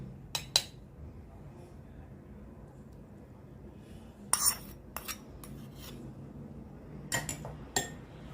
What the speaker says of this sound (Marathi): आणि एकत्र करून घ्यायचं आहे.